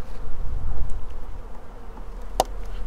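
Honeybees buzz in a freshly opened beehive during a varroa treatment with Apiguard, a low steady hum that stays faint and continuous, with one sharp click near the end.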